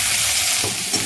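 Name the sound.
chopped onions frying in a pan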